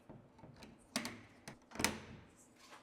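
Large cabinet pocket door clips into its track with a couple of sharp plastic-and-metal clicks and snaps amid light handling knocks, close and quiet.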